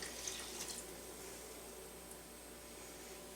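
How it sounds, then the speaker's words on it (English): Warm yeast water being poured into flour for no-knead Roman-style pizza dough, a soft, steady trickling stream, quiet and close, with a few faint clinks early on. "Take the warm water with the yeast and add it with the flour,"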